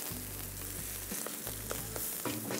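Onions fry in hot oil with roasted green chillies for gongura pulusu, making a continuous crackling sizzle up close with a few soft stirring scrapes and a steady low hum beneath.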